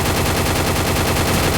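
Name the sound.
gunfire in the video game Counter-Strike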